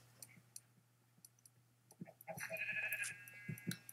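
A Minecraft sheep lets out a short, faint bleat in the second half, amid soft in-game clicks and taps over a low steady hum, with no talk.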